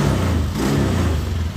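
Honda Beat Fi 110 scooter engine revving after repair, a loud, close, steady mechanical drone with low rumble and slight fluctuation in pitch, no talking.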